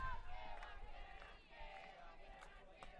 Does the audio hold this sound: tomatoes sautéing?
no